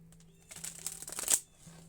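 A deck of cards is shuffled close up, a quiet pause followed by a quick riffling burst that builds to a sharp flutter and then stops.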